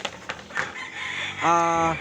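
A rooster gives a short crow near the end over a busy gamefarm chicken-yard background of scattered clucks and rustling, fairly close.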